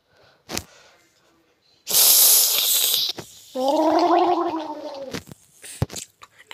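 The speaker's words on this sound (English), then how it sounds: "Why the hell did you gargle your Coke?" Someone gargling cola: a brief snap, then a loud fizzy hiss of carbonation, followed by a long bubbling gurgle in the throat, with a couple of sharp clicks after.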